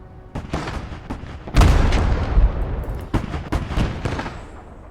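Heavy artillery in the World War trench game Blood Red Snow: a run of booming shots and crashes, some close and loud, others duller and more distant, firing at an irregular pace.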